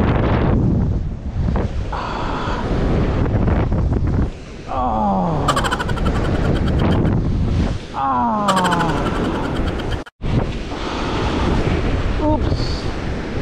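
Strong wind buffets the microphone during a bonito fishing trip on the water, a loud, continuous roaring rumble with a few brief dropouts and short voices cutting through.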